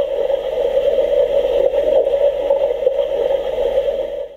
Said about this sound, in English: the hum of the wand will change to a bubbling effect as though slime is being filtered through it